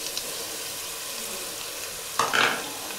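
Onions and curry leaves frying in a pan, a quiet steady sizzle with a brief sharp clink and burst of scraping near the end.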